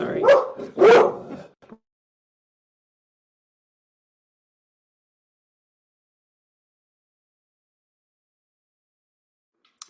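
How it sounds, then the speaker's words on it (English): A black Labrador barks twice in quick succession, loud and close, with a brief whimper-like trailing sound, followed by a long stretch of silence and a tiny faint click at the very end. "I just have a black lab that barks for you"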